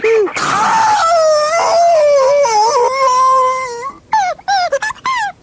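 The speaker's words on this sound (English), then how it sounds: "Dog!" A dog in a radio advertisement gives one long, wavering, mournful howl, then a string of short yelping cries, loud and close.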